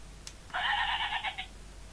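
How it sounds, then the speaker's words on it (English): A doorbell chime plays a recorded sheep bleating, a single wavering baa lasting about a second, fairly loud and close against a quiet background. "The sheep, very much like a rural setting there in the farmyard"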